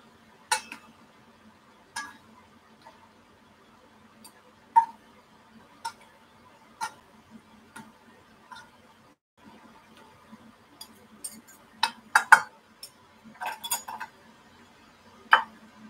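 Crab and cauliflower being mixed in a bowl, with scattered light clinks and ticks of a utensil against the dish, spaced irregularly and growing busier toward the end, close and fairly quiet.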